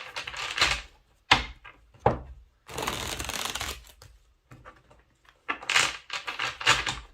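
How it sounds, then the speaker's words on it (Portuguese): Tarot cards being shuffled by hand, with several bursts of riffling and shuffling separated by short pauses, close and fairly loud, with no talking. "vou baralhar o tarô, que eu ainda não baralhei"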